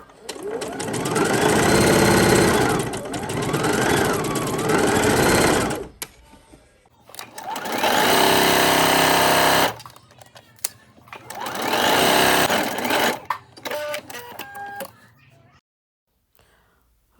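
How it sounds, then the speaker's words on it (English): A sewing machine stitches a seam on a garment in several bursts of rapid, buzzing mechanical chatter, each run several seconds long and separated by brief pauses, loud and close. "I'm going to take that to my sewing machine."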